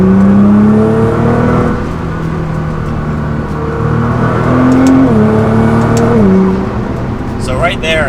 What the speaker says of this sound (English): So we'll pin it in third gear as we get up to speed.